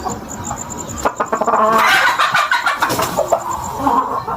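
Several 8-to-9-month-old chickens raised for competition cluck and squawk close by in a busy, continuous chorus, with a noisy outdoor background.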